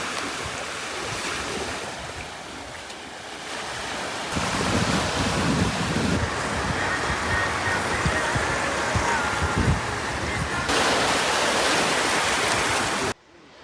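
Ocean surf washing onto a beach at low tide with the water going out, a steady broad roar of breaking waves mixed with wind buffeting the microphone, growing louder partway through and cutting off abruptly at the end.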